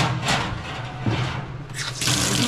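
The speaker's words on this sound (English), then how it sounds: "Draw some hot water. Real hot." Hot water gushing steadily from a tap, a loud, close, continuous hiss and splash that swells toward the end, with no talking.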